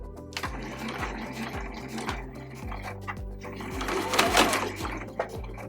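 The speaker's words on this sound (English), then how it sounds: "So I'm going to go ahead and stitch these together." A home sewing machine stitches two fabric panels of a small pencil pouch together with a half-inch seam, its needle thumping in a steady rapid rhythm that speeds up toward the end, close and clear, with no talk.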